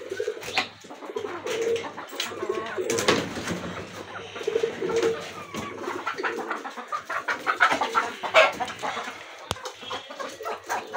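Chickens cluck and pigeons coo on a rooftop at feeding time. The calls overlap loosely, moderately close, with scattered pecking and rustling noises.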